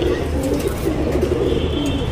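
Pigeons cooing close by, low soft rolling coos repeating steadily through the short stretch with no talk.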